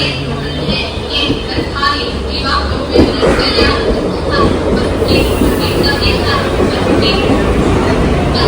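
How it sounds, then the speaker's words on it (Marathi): A train pulls in at a station platform with a heavy continuous rumble and rolling rattle, loud and close, while a crowd murmurs and people talk nearby. "ट्रेन"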